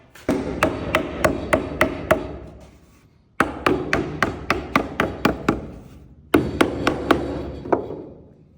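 Sharp hammer blows on wood for a bench build come in three quick bursts of steady strikes, each fading with a ringing decay, loud and close with short pauses between.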